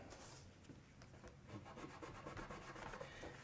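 A Scotch-Brite pad rubs through painted finish on a relic'd guitar body, a close, quiet rasping scrub in quick repeated strokes with no talk.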